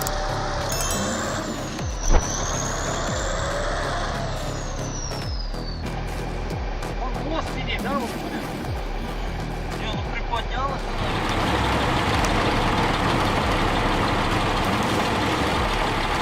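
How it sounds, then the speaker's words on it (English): A K700 tractor's engine roars steadily while it drags heavy logs through mud, a loud continuous rumble with shifting tones and a brief knock near the start, the noise swelling louder in the second half. "The K700 shows off its incredible power, the engine roaring in the wind and mud."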